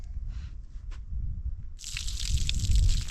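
Water is poured onto a surface coated with prickly pear as a natural waterproofer: after a quiet moment with a few drips, a steady, bright splashing gush starts and builds until the end.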